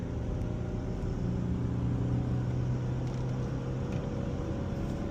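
A car bought at auction driving while stuck in first gear, its engine giving a loud, steady, strained drone with a constant rumble throughout.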